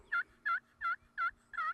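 Soft, content calls of a wild turkey hen waking on the roost in a tree before flying down, likely voiced by a caller imitating her: five evenly spaced, moderately loud clucking notes with no other sound.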